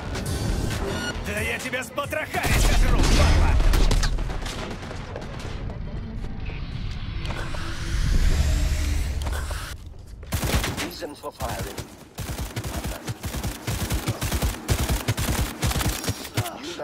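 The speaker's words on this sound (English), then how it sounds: "Well, I'm shooting them in the balls, it's not doing enough." Rapid bursts of gunfire in Cyberpunk 2077, with sustained automatic fire and clustered sharp shots, loud and close, while someone talks over the shooting.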